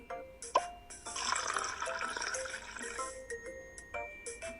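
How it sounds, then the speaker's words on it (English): Water pours steadily into a drinking glass for a simple kitchen-table science activity, giving a continuous splashing, filling sound with small drips at the start and end and no one talking. "Fill another glass with water."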